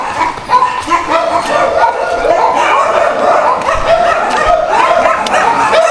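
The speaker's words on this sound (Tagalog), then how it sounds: "Dami na aso." Several dogs bark and yip continuously at a site in Pampanga, Philippines, a busy, overlapping chorus at moderate distance that fills the whole stretch.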